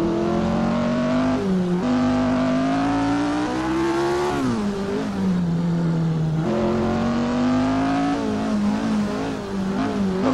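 Ford Capri RS3 in the Assetto Corsa racing game, engine loud and close as it accelerates hard in first gear, the pitch climbing, dipping at shifts and rising again, with no talk over it.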